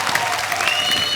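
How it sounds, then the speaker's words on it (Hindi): A brief, dense burst of studio audience applause on a comedy talk show, loud and even throughout, with no talking over it. "जोरदार तालियां आयुष के लिए"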